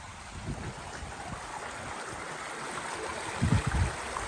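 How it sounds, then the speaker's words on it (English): A babbling stream on an old Northumberland hill fort hillside, a steady soft rushing and trickling of water heard alone, moderately near, with a few low rumbles. "The sound of a babbling stream."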